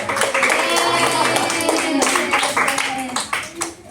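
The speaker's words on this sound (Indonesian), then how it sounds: "Beri tepuk tangan lagi ke Rose." Classroom applause during a vocational school microteaching lesson, with brisk clapping from students mixed with voices talking and calling out over it.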